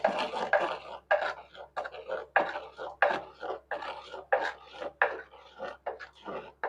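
A spoon scrapes and knocks against a pot as millet flour batter is stirred into cooked rice, giving a steady series of soft rhythmic strokes at close range. A faint low hum runs underneath.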